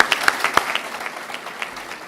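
Audience at a Holocaust memorial event for Carpathian Jews at a yeshiva applauds Brooklyn borough president Eric Adams, a few sharp nearby claps standing out over a brief, moderate round of clapping that quickly thins.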